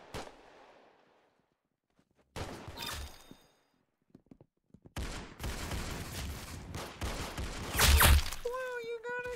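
Bursts of rapid gunfire from the Roblox shooter Arsenal, loud crackling volleys separated by brief silences, with electronic game effects and a voice briefly exclaiming near the end.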